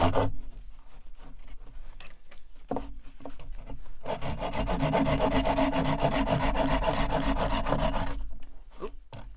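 A bow drill spins a wooden spindle against a wooden fireboard, making rhythmic back-and-forth scraping strokes, sparse and halting at first, then fast and steady for several seconds, close and dry.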